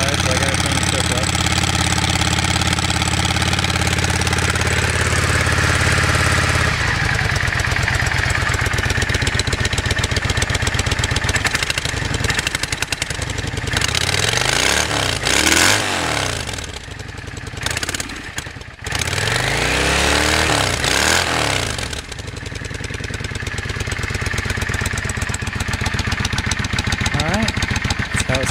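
A 1998 Yamaha V-Star 650 motorcycle on its stock exhaust idles loudly nearby, then is revved in several rising and falling bursts before dropping back to a rough idle.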